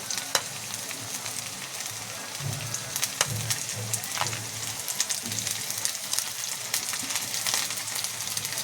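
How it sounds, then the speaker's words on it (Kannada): Onion, curry leaves and garlic frying in hot oil for a tomato chutney, a steady close sizzle with scattered crackles and occasional stirring scrapes, no voices. "ಎಣ್ಣೆ ಕಾದ್ಮೇಲೆ ಈರುಳ್ಳಿನ ಹಾಕ್ಕೊಳ್ಳಿ, ಸ್ವಲ್ಪ ಕರಿಬೇವನ್ನ ಹಾಕ್ಕೊಳ್ಳಿ."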